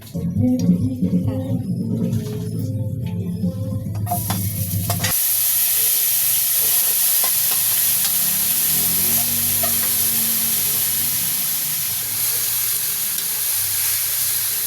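Chopped onions hit a hot pan for chicken curry and sizzle loudly, a steady broadband hiss that jumps up after a few seconds of quieter clatter and holds close and constant to the end.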